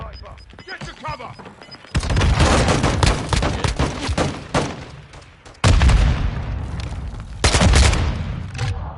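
Heavy gunfire in the shooter game Modern Warfare 2, with loud, dense volleys of shots and booming impacts arriving in bursts, dropping briefly before erupting again close and harsh.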